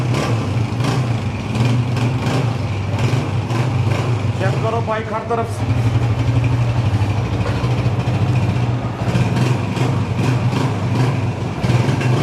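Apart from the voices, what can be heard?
Honda 125 motorcycle engine running and revving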